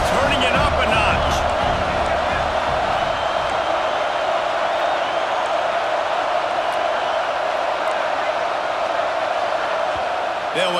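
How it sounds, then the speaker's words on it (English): A dense stadium crowd roars steadily in the EA Sports College Football 26 video game, a loud continuous wash of cheering with commentary voices over it. "this crowd is turning it up a notch"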